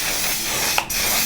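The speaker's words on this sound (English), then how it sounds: "I'm gonna spray my face" A face mist spray gives one short, close hiss of roughly a third of a second.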